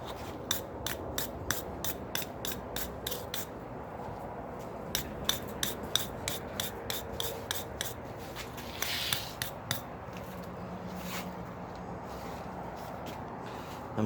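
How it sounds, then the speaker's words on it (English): A belt grinder works the tip of a hot cut tool made from a ball pein hammer, giving a long series of rhythmic rasping strokes, fairly quiet and steady, with a brief louder hiss near the middle. "I'm going to do a little bit of grinding on the tip with the belt grinder"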